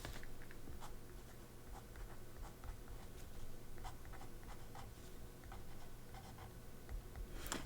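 Pen scratching across paper while inking a Doctor drawing for Inktober, light continuous scratches and small ticks over steady room hiss, close and fairly quiet throughout.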